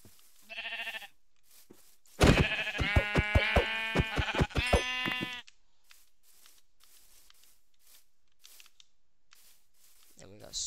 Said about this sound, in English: We got ourselves some sheep.